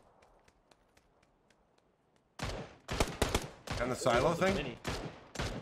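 Gunfire in a shooter video game bursts out in several rapid volleys after a quiet stretch of faint clicks, loud and close, with a voice talking over it.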